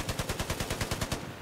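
Rapid automatic gunfire from a machine gun in Battlefield 4, a steady burst of about a dozen evenly spaced shots over just over a second, loud and close, with no talking.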